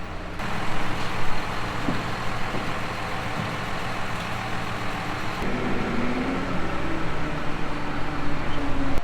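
A 6150 tractor runs steadily up close in snowy conditions while its loader is being removed, a continuous, loud engine drone with a slight shift in tone partway through.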